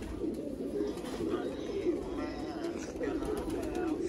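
Red-eyed Kasbi pigeons from the Sialkot border area keep up a continuous low, throaty cooing close by, overlapping calls rising and falling throughout.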